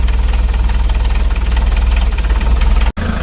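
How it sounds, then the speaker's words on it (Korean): A Hyundai Palisade engine, repaired after a broken injector fixing bolt and winter starting trouble, runs just after starting. It gives a loud, steady, rough idle with a rhythmic knock and a brief dropout near the end. "네, 시동을 걸었습니다."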